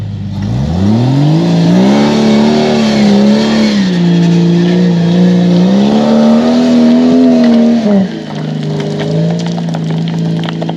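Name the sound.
full-size rock crawler rig driving over rocks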